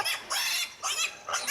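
Pigs being held and carried during a motorbike delivery squeal loudly and close, in four or five sharp, piercing bursts with brief gaps.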